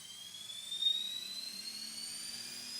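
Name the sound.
RC helicopter motor spinning up without blades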